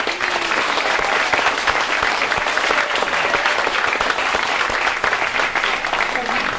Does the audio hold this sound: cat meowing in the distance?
no